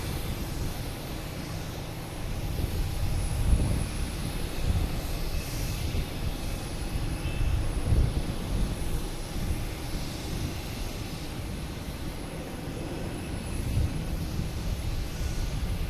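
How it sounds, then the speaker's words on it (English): Alaska Airlines jet standing at Boston Logan with its auxiliary power unit running, giving a steady, continuous low rumble and whine close by, with no talking over it. "Got the Alaskan Airlines in front of us with their APU running. They got some extra noise"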